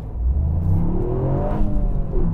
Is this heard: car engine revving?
yes